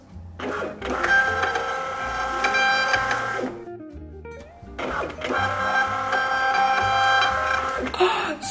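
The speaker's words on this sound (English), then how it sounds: "it's automatically connected to the printer so we can go ahead and get to printing" A home printer, connected through a phone app, prints in two long bursts of mechanical whirring and feeding, with a short pause between them and a final clunk at the end.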